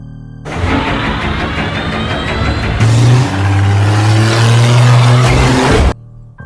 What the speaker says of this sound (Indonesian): masuk ke dalam mobil dan pergi secepat mungkin